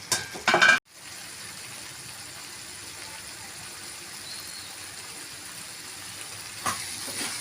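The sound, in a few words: tomato thokku cooking in a covered pan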